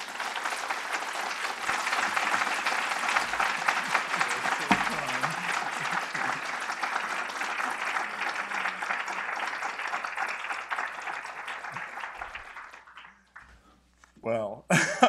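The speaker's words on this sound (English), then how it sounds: "Please join me in giving him a true Penn warm applaud." An audience applauds a speaker at a university lecture on global health, sustained dense clapping that fades out near the end before a voice begins speaking.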